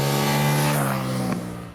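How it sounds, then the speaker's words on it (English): A KTM motorcycle engine with an uneven firing order gives a loud, throbbing exhaust drone with a beat like a V-twin. It holds steady, then eases off slightly near the end. "The result is a loud, angry and quite likable beat from the exhaust."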